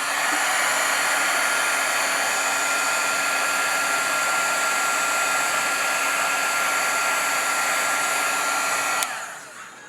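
A heat embossing gun blows a loud, steady, hissing roar while melting silver embossing powder on a handmade card, holding constant for about nine seconds before switching off and winding down.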